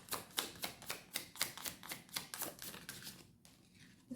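Tarot cards are riffled and shuffled in quick rhythmic bursts, a dozen crisp close snaps in a steady beat, then a softer pause as cards are drawn.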